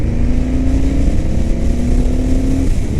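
An Indian FTR S motorcycle pulling in 5th gear at around 3,000 RPM, a loud, steady engine drone with a rising tone, heard close from the rider's position.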